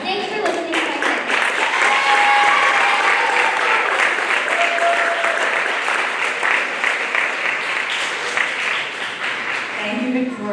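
Sustained applause from a school audience at a student TED-Ed night fills the room, loud and steady with dense clapping throughout, a few voices briefly audible beneath it.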